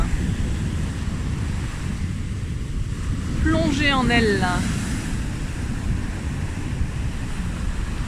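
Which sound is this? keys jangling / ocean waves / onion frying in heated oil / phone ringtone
ocean waves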